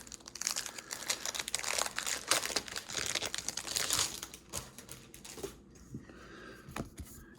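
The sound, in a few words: opening a plastic bag of board game pieces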